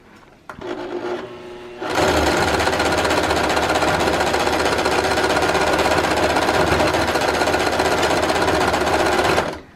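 A sewing machine stitches back and forth over elastic on a fabric face mask, starting with a few faint clicks and then running in a loud, steady, rapid buzz for several seconds close by.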